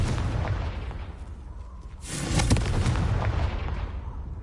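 The Confringo fire spell in Hogwarts Legacy goes off as a loud, close explosive burst that swells and rumbles over a dense game soundscape, with no voices.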